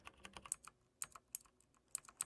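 Typing on a small Velocifire TKL78 tenkeyless mechanical keyboard with brown switches: quick, fairly quiet keystrokes in an irregular patter, close up with no voices.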